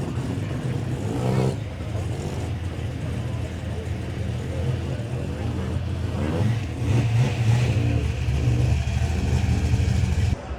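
Modified cars cruise past at the Summernats car show, with a low continuous engine rumble and occasional revs under nearby people chatting.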